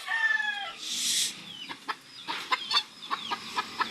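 Kelso gamefowl hens and roosters in a backyard open-air breeding pen, a crow-like call opens, then a run of short close clucks and squawks in uneven bursts.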